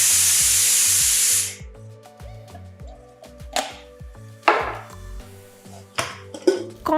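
A pressure cooker lets out a loud, steady hiss of whistling steam while corn cooks inside, ending abruptly after about a second and a half, followed by scattered kitchen clatter and taps.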